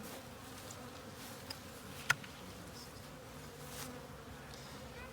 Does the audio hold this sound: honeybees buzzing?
yes